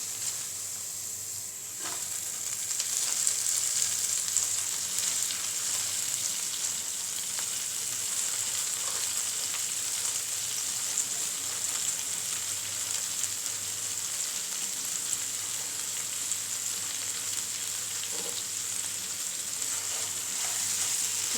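Water spinach goes into a prawn curry that is frying in a pan, and a loud, even sizzle and hiss holds for a long stretch, with a few faint knocks and stirring sounds and no voices.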